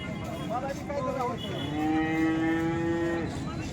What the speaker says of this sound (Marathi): साधी शेतकऱ्याची गाय बघा